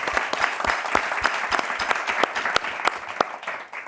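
An audience clapping after a winner is announced at a talk event, a lively, uneven burst of hand claps close by that thins out and fades toward the end.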